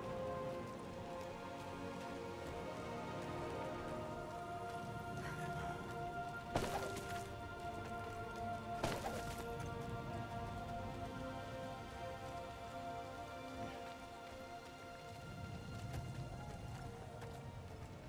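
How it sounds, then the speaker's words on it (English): Steady rain pours down in Diablo IV, a soft even patter under a low droning game score, with two sharp thuds landing partway through. "This rain of blood."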